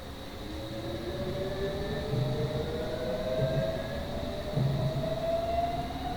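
Cab sound of an S Stock underground train in Train Simulator 2019: a steady rumbling run with rising electric motor whine and faint repeated clunks from the wheels, continuous and fairly close, with no voices.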